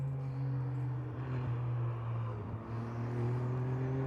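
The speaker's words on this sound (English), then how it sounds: "hear the sound of this wonderful power plant, the 3-litre twin-turbo V6, which produces in excess of 700 HP for these Ferrari 296 Challenge cars" A Ferrari 296 Challenge race car with a 3-litre twin-turbo V6 heard at a distance at Hockenheim, a steady tonal engine drone that dips briefly mid-way, no talk over it.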